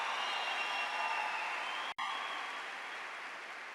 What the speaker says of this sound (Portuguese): Pode aplaudir isso, a sua santidade, a sua santidade.